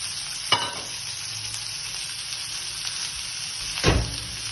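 Curry leaves, garlic and green chilies sizzling and being stirred in a pan for pepper chicken, a steady close frying hiss with two sharp scraping stirs.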